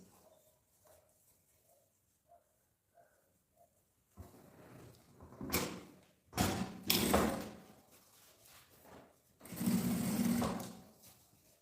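A sewing machine topstitching the seam of a baguette-style bag. Soft ticking at first gives way to several loud, whirring stitching bursts of a second or two each, separated by short pauses.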